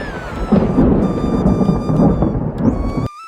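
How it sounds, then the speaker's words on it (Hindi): Heavy torrential rain pours at night with rolling thunder, a loud continuous downpour rumbling throughout before cutting off abruptly near the end. "पूरी रात बहुत तेज मूसलाधार बारिश होती है"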